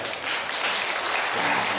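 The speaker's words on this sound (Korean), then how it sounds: "박수 한번 쳐주시기 바랍니다." A church congregation at a national gathering breaks into applause, a thick, steady roar of many hands clapping, close and sustained with no pause across the whole stretch.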